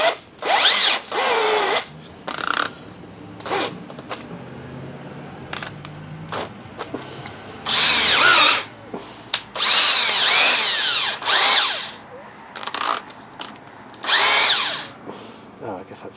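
A Makita BHP452 18V hammer drill, under gearbox rebuild, runs in repeated short bursts of whirring, some brief and some several seconds long, with quiet gaps and handling noises between them.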